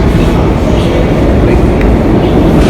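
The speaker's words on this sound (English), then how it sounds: "Train coming right now." Train passing close by, a loud, continuous rumbling roar with clattering wheels that holds steady throughout.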